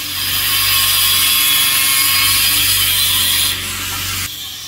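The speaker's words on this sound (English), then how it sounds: "turn the grinder on" A grinder runs steadily and loudly at a ranch, a continuous whirring drone with a steady low hum beneath it, easing slightly toward the end and dropping off in the final moment.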